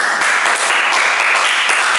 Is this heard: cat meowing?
no